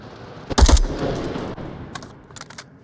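Gunfire in the VR shooter Onward, a competitive match: a tight cluster of loud, close shots at the start, then scattered fainter distant cracks trailing off in a few quick bursts.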